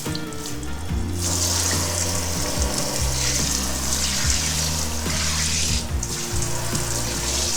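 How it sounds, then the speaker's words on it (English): Tap water running into a kitchen sink to rinse it after scrubbing with soap, a loud steady splashing rush with shifting tones as the stream hits the basin, close and continuous with no talk. "Then I rinse my sink with water."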